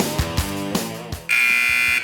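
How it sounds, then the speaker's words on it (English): A harsh, loud electronic buzzer breaks in abruptly and holds steady after a few soft background thumps, ringing alone with no talking. "The sound of the buzzer means it's time for the intermission."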